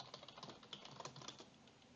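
A password being typed on a computer keyboard: a quick, quiet run of light key clicks at an uneven rhythm, close by and alone.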